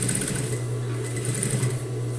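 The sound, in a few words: sewing machine stitching a seam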